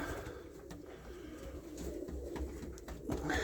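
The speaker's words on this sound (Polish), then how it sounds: "Tutaj to są Oli gołębie" Domestic pigeons in a loft coo softly at close range, low murmuring calls repeating irregularly against a quiet background, with faint rustling and no speech.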